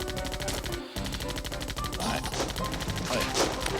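Rapid gunfire from the Zombie Panic in Wonderland video game crackles in dense, repeated bursts over busy game music, with a brief break near the start.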